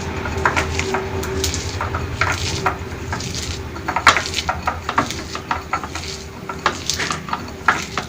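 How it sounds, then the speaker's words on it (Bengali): Green chillies, onion and salt being mixed by hand in a bowl, with a steady run of soft clinks and scrapes of utensil against the bowl and a brief rub now and then, fairly close and with no talk. "বাটিতে কাঁচামরিচ নিয়ে নিয়েছি, পেঁয়াজ, একটা পেঁয়াজ নিলেই হবে, আর কিছুটা লবণ নিয়ে এটাকে মেখে নিতে হবে"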